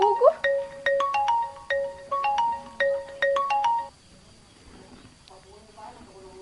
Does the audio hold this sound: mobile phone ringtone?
yes